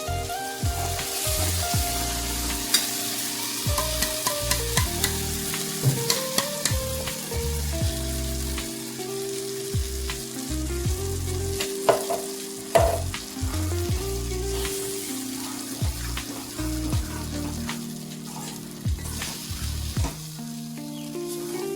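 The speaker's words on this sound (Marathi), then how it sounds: "कांदा आणि मिरची व्यवस्थित झाली ना परतून" Onion and chili mixture frying in a pan for besan pithla, giving a steady close sizzle with occasional stirring scrapes and light clatter throughout, with background music playing underneath.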